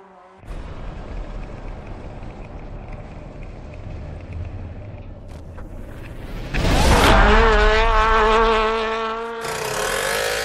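Car sliding around Rob Dyrdek's small go-kart: a continuous engine drone and tire noise, rising to a loud, high revving whine and screech in the later half, with no talk.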